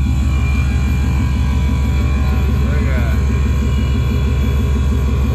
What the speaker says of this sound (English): I know the air compressors are really loud.